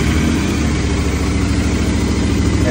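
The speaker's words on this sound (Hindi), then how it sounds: "तो मैं अपनी बाइक को स्टार्ट करता" A motorcycle engine idles steadily and loudly at close range, with an even low throb and no talking.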